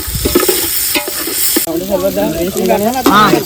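Tomatoes frying and being stirred in a pan outdoors on a farm, with a steady loud sizzle and scraping spoon strokes. A voice sings or hums along over the cooking noise.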